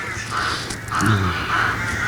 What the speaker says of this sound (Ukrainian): постійне каркання птахів зранку до вечора не дає спокою у квартирах